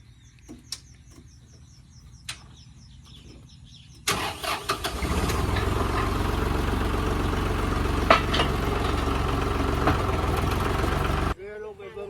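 A used Iseki 42 hp tractor engine cranks and catches, then settles into a steady, loud, rumbling idle outdoors. Birds chirp and faint voices come before the start, and the engine cuts off abruptly near the end.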